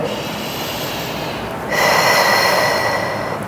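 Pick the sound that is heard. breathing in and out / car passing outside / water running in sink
breathing in and out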